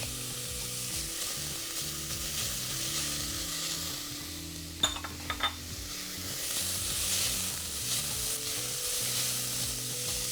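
Garlic frying with onions in a pan while making red Thai curry, giving a steady, close sizzle throughout with a few brief utensil clinks midway.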